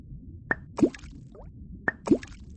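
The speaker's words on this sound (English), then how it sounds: "Let's start our pond by adding rocks." Two rocks plop into a pond in a children's video game, each a sharp chime-like tap followed by a bubbly watery plop, about a second apart against quiet.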